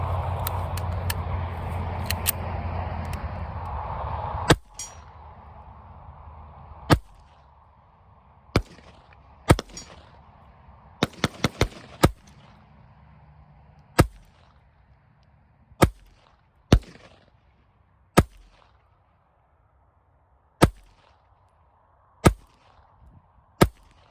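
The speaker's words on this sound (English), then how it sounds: "so you may hear some gunfire in the background as well as me shooting" Sharp pistol shots crack out one at a time at irregular intervals, some in quick bursts, over faint background hum at an outdoor range, with a CZ-82 pistol among them.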